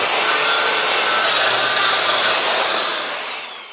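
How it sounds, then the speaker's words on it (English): A power saw cuts through a 10-foot wooden board for wall framing, loud and close, a steady high whine that holds for about three seconds, then winds down. "let's cut the rest of the wood"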